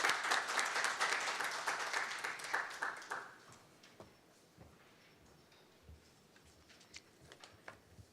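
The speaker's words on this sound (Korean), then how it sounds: "박수 부탁드리겠습니다." Audience applause at a Korean financial policy seminar on transnational fraud as the final session's presenter is introduced, loud and dense at first, then thinning to scattered claps and faint room noise after about three seconds.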